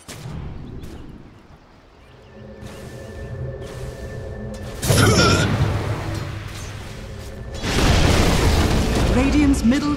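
A tower being destroyed in Dota 2 lands as a loud, booming crash and rumble that swells in twice over a layered game soundscape of hums and effects, with no voice over it.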